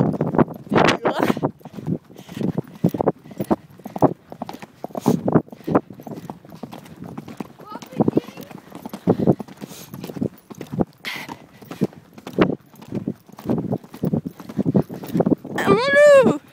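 A horse gallops, its hooves striking the ground in a fast, continuous clip-clop rhythm that stays close and clear. A brief high whinny-like sound comes near the end.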